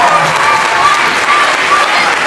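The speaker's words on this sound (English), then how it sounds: "Give them a round of applause, ladies and gentlemen" Steady, loud applause from an audience at a primary school fourth grade chorus concert fills the whole stretch, a dense wash of many hands with a faint voice briefly over it.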